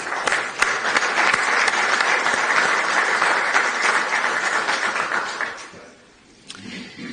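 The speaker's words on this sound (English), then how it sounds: "A big round of applause for these guys." A conference audience in Istanbul applauds the sponsors with loud, dense clapping from a large crowd for about five seconds, then fading away into quiet room tone.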